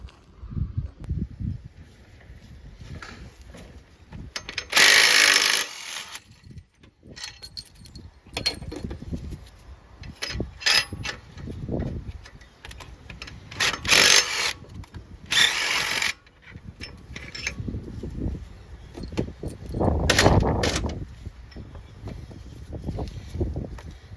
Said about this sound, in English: Take that off, put the pulling tool in there, and that should come right out.